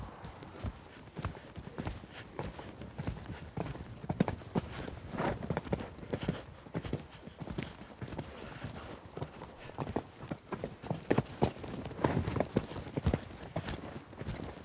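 A horse's hooves clip-clop on the ground during show jumping training, an uneven run of close, sharp strikes with louder thuds at moments, steady throughout.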